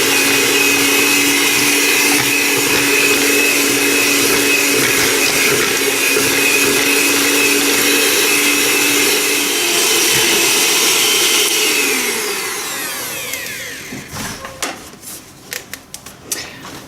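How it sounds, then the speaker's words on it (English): A hand whisk runs steadily through a thick, hot Scottish tablet mixture of sugar and butter, giving a loud continuous whirring with a motor-like drone that cuts out near the end, leaving a few clattering knocks. "I'm just going to use the hand whisk to whisk it up, get some air in there, and cool it"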